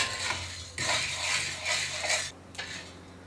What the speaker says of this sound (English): the coffee is now starting to pop a little. They call that cracking.